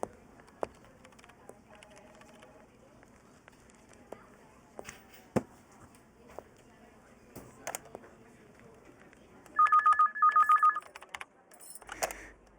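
A telephone is dialed in a Hindi film scene: quiet clicks and taps lead to a quick run of bright keypad tones near the end, followed by a brief thump.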